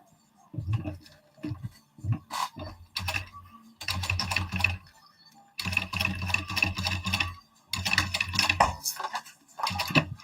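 A sewing machine does top stitching in bursts of rapid mechanical clatter, each run lasting a second or two, with short pauses between them.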